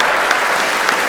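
Audience applause at an Oxford Union event, a dense, even patter of many hands clapping with no break for the whole moment.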